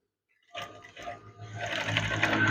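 A sewing machine stitches a small curtain, starting after a brief silence with a few hesitant whirs, then settling into a steady, close mechanical hum and rattle.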